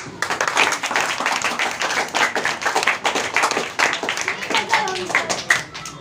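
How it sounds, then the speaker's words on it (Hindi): Children clapping together in a school classroom after a team quiz result, a busy patter of claps mixed with voices and chatter throughout. "ताली बजाओ।"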